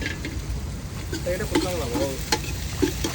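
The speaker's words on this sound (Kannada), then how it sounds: "ನೀನು ಈರುಳ್ಳಿ ಫ್ರೈ ಮಾಡಮ್ಮ ಸಾಕು" Onions and green chillies frying in a pan while being stirred, with a steady sizzle and repeated scraping stir strokes close by in a home kitchen.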